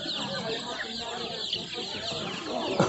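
Ducklings for sale at a busy poultry bazaar, with steady chicken-like clucking and peeping from many birds filling the air and a louder burst near the end.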